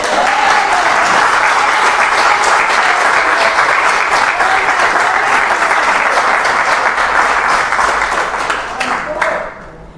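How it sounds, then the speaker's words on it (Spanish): A church congregation breaks into loud, sustained applause, a dense wash of many hands clapping at once that holds steady for most of the stretch before tapering off near the end. "yo creo que se merece un aplauso"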